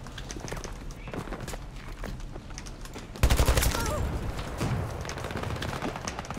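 Rapid automatic gunfire from a weapon in the shooter game Battlefield 2042, starting with scattered shots and then bursting into a loud, dense sustained volley close by, with a voice speaking over it.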